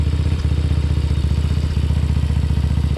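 A Boom Vader motorcycle engine idles and pulses steadily up close as the clutch is eased out slowly, with a loud, even, rhythmic thrum and a light mechanical clatter.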